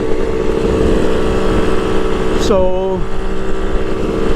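A Kawasaki KH500 H1 motorcycle engine pulls under light throttle with its intake boots removed, giving a loud, steady close engine drone whose pitch drops near the end, with someone speaking briefly over it.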